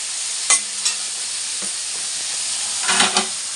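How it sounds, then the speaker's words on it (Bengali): Onions fry in a pan with a steady, high-pitched sizzle and hiss, broken by a few louder clatters from stirring. "এই যে পেঁয়াজগুলো এখন ভাজা হচ্ছে"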